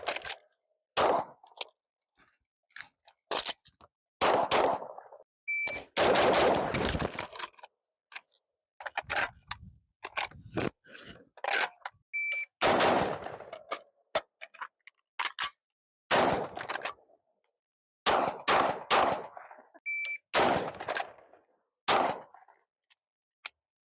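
Pistol shots at an outdoor shooting range ring out as many sharp, separate cracks, loud and close, grouped in irregular clusters with short quiet gaps between strings of fire, and no talking.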